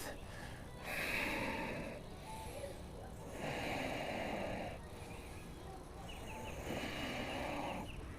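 Slow, deep breaths are drawn in and let out through the nose and mouth during a yoga twist, in long airy rushes with short pauses between them, close and fairly soft.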